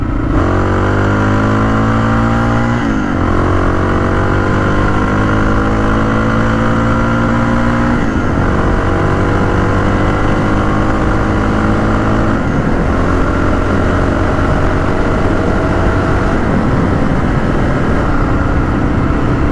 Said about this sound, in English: This bike feels a lot more stable and actually more nimble than the other bike by quite a bit.